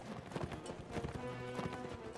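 Horses gallop in a battle in the Mount & Blade Warband video game, a dense, steady clatter of hooves at moderate distance with no talking over it.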